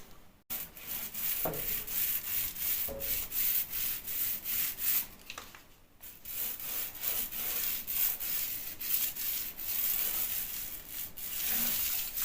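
Final hand sanding of a patched plasterboard wall over blockwork: repeated rhythmic rubbing strokes, close and fairly quiet, with short pauses between passes.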